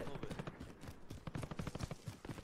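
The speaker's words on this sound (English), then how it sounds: "I hear a lot of gunfire." Gunfire in the Call of Duty Warzone video game comes as dense rapid bursts of shots, fairly faint and distant, and continues steadily throughout.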